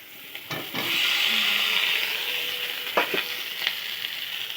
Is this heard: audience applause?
no